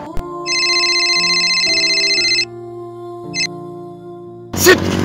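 A mobile phone ringtone plays a loud electronic melody of shifting tones, the ring pattern stopping and starting briefly before a sharp noisy burst near the end, with no speech.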